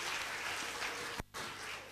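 Loud, dense applause from the crowd fills the hall at a music launch event, a continuous wash of clapping broken by a very short gap.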